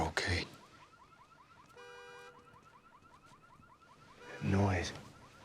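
A car alarm sounds from down a street, its repeating electronic whoop steady and fairly distant beneath louder nearby noises at the start and end.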